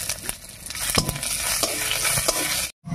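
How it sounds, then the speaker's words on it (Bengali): Dried red chillies, whole cumin seeds and bay leaves fry in hot oil left from frying fish, a dense steady sizzle with crackles and a few stirring knocks, close and loud, cutting off abruptly near the end. "আর ফোড়ন দেব 2টো শুকনো লঙ্কা, 1/2 চামচ গোটা জিরা আর 2টো তেজপাতা দিয়ে"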